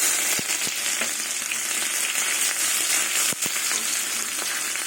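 Loud continuous sizzling of radhuni spice and ginger frying in a pan, a steady bright hiss with a few soft stirring clicks, no talk.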